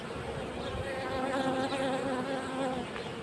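Honey bees hum in a steady, dense drone from a hive opened during work on a colony whose workers have turned to robbing, the buzz continuous and close with no talk over it.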